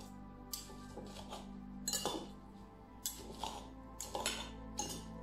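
Chopped spinach salad being tossed with utensils in a bowl, repeated bright clinks and scraping rattles coming in short bursts, fairly close and fairly quiet over a low hum.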